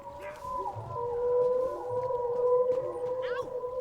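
A dog in The Elder Scrolls Online gives long, wavering howls that rise and hold over several seconds, fairly close and loud, with faint background game sounds.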